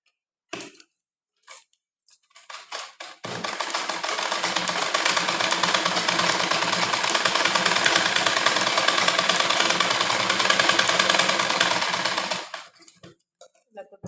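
A sewing machine stitching a puff sleeve blouse runs in one continuous buzzing whir for about nine seconds, close and steady, framed by a few brief clicks and handling taps before and after.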